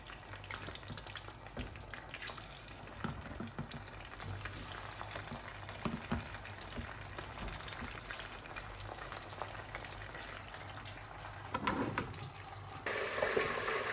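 Meat sizzling in very hot oil for coconut jollof rice, a dense steady frying hiss with occasional pops and stirring, louder toward the end.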